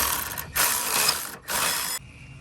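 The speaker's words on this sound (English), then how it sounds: "now we're gonna use our little ratchet." A small hand ratchet clicks steadily in two bursts while loosening the end link nut during a Tein coilover install on an Infiniti Q60, close and clear with no talk.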